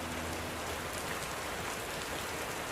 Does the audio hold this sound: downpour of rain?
yes